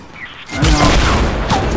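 A rocket launcher explosion in Fortnite hits as a loud, sudden boom that rolls into a sustained, noisy rumble lasting over a second, with a fainter crackle trailing off near the end.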